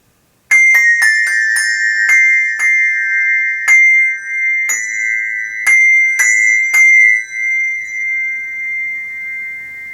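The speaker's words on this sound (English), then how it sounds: "once we've struck this next bell, gently put our mallet on the bell that we want to damp out" Handbell struck repeatedly with a mallet, a series of about ten bright ringing strikes in an uneven melody, then one bell damped by resting the mallet on it so the ringing fades and cuts off.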